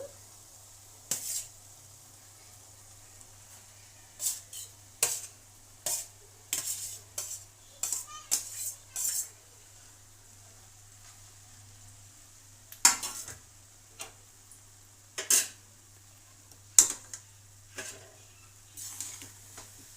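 Spoon scraping and clinking against a pan as tomato rice is stirred, a series of short metallic strokes at an uneven pace over a faint steady hum, close and quiet with no talking.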